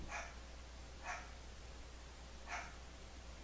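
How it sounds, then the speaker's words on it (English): A dog barks three separate times at a distance, short bursts spaced about a second apart, faint against a steady background hum with no talking. "He's still barking in the background."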